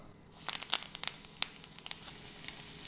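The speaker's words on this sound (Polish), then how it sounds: "Kotlety smażymy na rozgrzanym oleju na złoty kolor." Quiet crackling and sizzling of egg cutlets coated in breadcrumbs frying in hot oil until golden, with scattered sharp pops.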